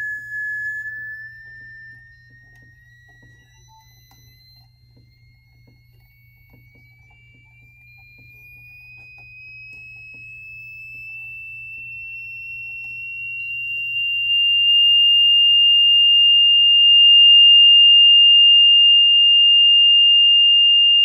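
A pure sine tone driving a circular Chladni plate, a single steady whistle-like pitch gliding slowly upward and settling near 2,810 hertz, growing louder toward the end with a faint low hum beneath and no talk.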